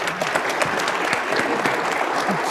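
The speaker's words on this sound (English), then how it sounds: "Can we please give them a round of applause?" An audience claps steadily and fairly loudly throughout, a dense even patter of many hands with no voices standing out.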